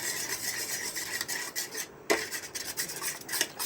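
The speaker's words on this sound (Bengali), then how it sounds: "ভালো করে এবার ডিমটা আমি ফেটিয়ে নেব" Eggs seasoned with salt and ground pepper are whisked in a bowl as batter for fish cutlets, a steady close scraping and rubbing of utensil against the dish with a brief pause partway.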